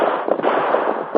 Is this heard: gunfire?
yes